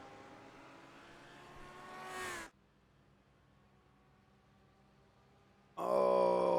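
Race cars on a circuit roar past as the last lap begins: a loud engine note builds and rises before cutting off, a quieter lull with distant engine hum follows, then another car bursts in loud and close.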